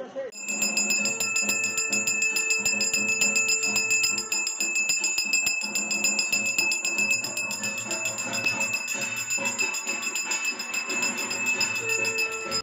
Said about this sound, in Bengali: আমার ঘন্টাটা